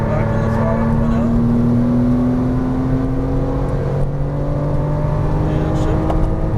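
A Porsche Cayman R engine pulls hard as the car accelerates out of a turn, a steady rising drone that stays loud throughout, with a voice speaking over it.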